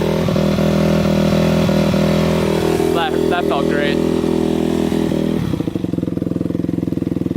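A motorcycle engine idles loudly and steadily, its rhythm shifting to a choppier beat near the end, with a brief spoken remark over it.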